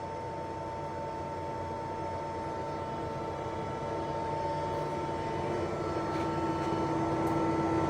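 Summit 34"/42"x120" gap bed engine lathe running at its lowest speed of 14 RPM, a steady mechanical hum with a constant tonal whine and a faint rising pitch late on, continuous and moderately loud.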